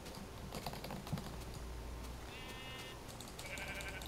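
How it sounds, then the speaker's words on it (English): A sheep in Minecraft gives two short, quiet bleats over a faint low hum, with light key clicks scattered around them. "Oh, another sheep."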